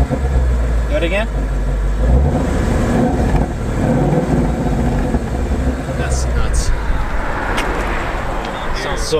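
A 2015-17 Ford Mustang GT V8 revs up close, its throaty engine rising and falling in repeated blips over a steady rumble, with people talking and reacting around it.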